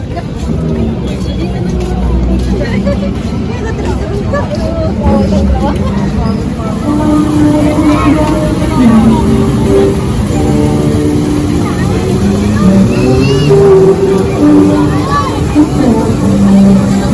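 A dense crowd fills the Pasig River Esplanade bazaar with steady, close babble of many voices. Passing cars, motorbikes and engine rumble sit underneath, with a nearer voice talking over it.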